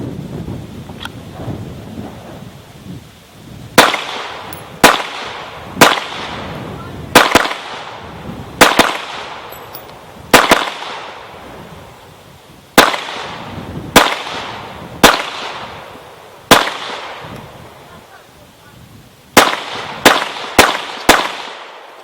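A Glock Gen 4 G17 pistol fires outdoors as a string of sharp, loud, close gunshots, spaced unevenly and then coming faster near the end, each crack trailed by a short echo over faint background noise.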